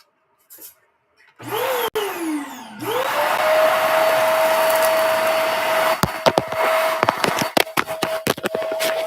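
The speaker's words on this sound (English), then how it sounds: "I'm going to vacuum here under the pillows on the couch." Vacuum cleaner working under couch pillows: it starts up with a rising whine, settles into a loud steady drone with a sharp tone, and bumps and clatters against the cushions toward the end.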